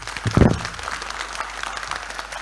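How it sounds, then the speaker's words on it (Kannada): An audience claps at a youth inter-unit cultural competition stage event in Bantwal. A short burst of clapping starts with a loud thump, then settles into a steady patter of hands with no speech. "ಎದ್ದು ನಿಂತು ನಾನು ಚಪ್ಪಾಳೆ ಕೊಡಬೇಕು"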